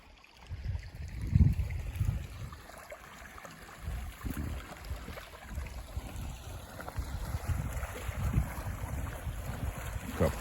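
Flood water rushes and churns through a swollen river, a steady broad roar with gusty low rumbles, as if heard outdoors beside the bank in wind, with no voices.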